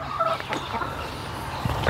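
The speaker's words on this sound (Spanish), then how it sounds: "ahorita ya están descansando las gallinas" Hens call briefly over a quiet ranch yard: a few short clucks and a warbling fowl note, close by.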